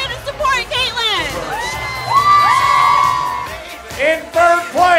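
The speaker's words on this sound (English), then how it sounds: "Round of applause for Caitlin Stokely." An audience at a televised competition final cheers, whoops and shouts loudly in bursts for contestant Caitlin Stokely, with excited voices rising and falling.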